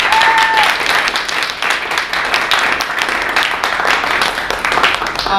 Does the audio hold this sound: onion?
no